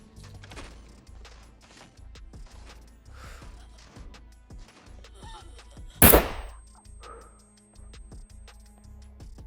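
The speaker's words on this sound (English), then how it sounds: "I'm shooting a loud gun right now. No suppressor, no anything like that." A loud unsuppressed gun fires in the survival video game SCUM, one sharp, powerful blast standing out above quieter clicks and scattered small sounds.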